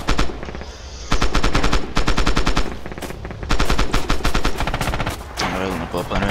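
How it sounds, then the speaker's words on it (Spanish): Rapid automatic gunfire and single shots in the World War II shooter game Red Orchestra, loud and close, in dense bursts with brief pauses between volleys. "Alguien me ha disparado."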